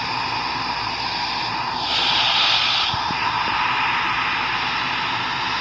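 Airliner engines roaring steadily during a go-around in the Roblox flight game PTFS, a broad continuous whine that swells slightly as thrust increases, with no talking.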